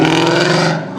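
A car at a Cars and Coffee meet accelerates hard with a loud exhaust, its engine roaring close by in a steady low drone that fades slightly before swelling again at the end.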